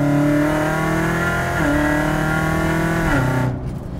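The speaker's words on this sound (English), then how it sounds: "it is the, the loudest V8 I think I've ever driven, or one of the loudest V8s" A 650 hp Corvette Z06 V8 with a manual gearbox and open exhaust roars loudly and close, holding a deep, steady drone with slight pitch dips before easing off near the end.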